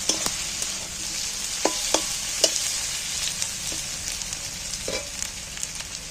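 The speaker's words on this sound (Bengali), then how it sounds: "টমেটোগুলো পেঁয়াজের সাথে একই সাথে ভেজে নিচ্ছি" Chopped tomatoes frying together with onions for an egg and red lentil dal, a steady hiss of sizzling with scattered clicks and taps of a spoon stirring the pan, close and continuous throughout.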